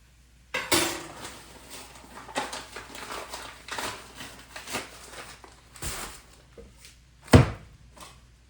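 A whisk scrapes and clinks around a pan as flour is stirred into gravy for a hamburger steak dinner, with irregular metallic taps and one sharper knock near the end.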